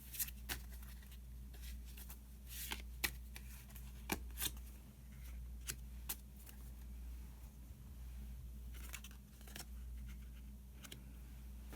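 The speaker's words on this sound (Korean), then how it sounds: "히든 카드를 한 장 더 뽑아보도록 하겠습니다" Tarot cards are shuffled and drawn in a quiet room: faint, scattered papery flicks and taps over a low steady hum, with no talking.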